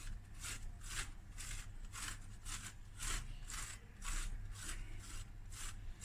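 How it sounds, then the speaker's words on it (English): Apples are grated by hand for an apple crumble, a steady series of about a dozen rasping strokes in an even back-and-forth rhythm, close and clear with no talking. "and you just grate."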